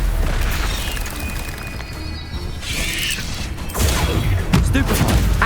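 Stupefy spell cast in the video game Hogwarts Legacy, heard as booming magical blasts with mechanical clattering and a rising burst of crackling energy, loud and close, amid game effects.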